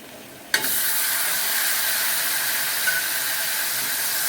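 Onion and tomato sautéing in a pan for Bombay chutney, a steady close sizzle and hiss that starts abruptly and holds without talk.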